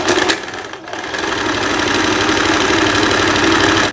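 A sewing machine stitching the side seams of a thin-fabric blouse, starting with a short burst and then running in a loud, steady mechanical whir close by.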